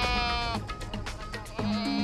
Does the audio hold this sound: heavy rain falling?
no